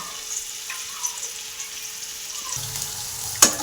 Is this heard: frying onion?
yes